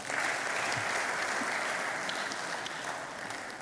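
Sustained, dense applause from a big audience at a business school graduation ceremony, a steady wash of many hands clapping that eases slightly near the end.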